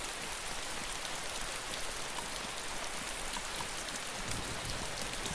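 Steady rain hisses without a break in the DayZ Standalone survival game, a dense, even wash of falling water that holds at the same level from start to finish, with no voices.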